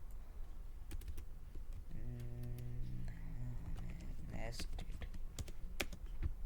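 Quick irregular clicks of typing on a computer keyboard, close and fairly quiet, with a short humming tonal sound in the middle.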